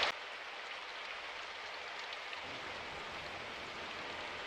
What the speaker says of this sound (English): hurried under its roof to avoid the rain